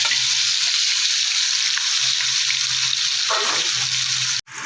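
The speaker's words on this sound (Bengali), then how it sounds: "মাছগুলো আমি ভেজে নেব তেলটা আমার গরম হয়ে গেছে এবার আমি দিয়ে দেব" Pieces of Rui fish sizzle steadily in hot oil in a pan, a loud continuous frying hiss with occasional stirring, ending in a sudden cut.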